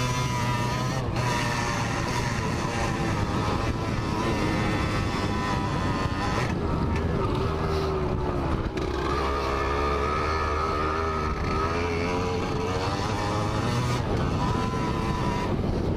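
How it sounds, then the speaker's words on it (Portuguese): A loud, buzzy two-stroke engine of a Yamaha DT200R motorcycle runs continuously at close range, its pitch shifting slightly as it revs, with wind noise and no speech. "Do dois tempos falando alto."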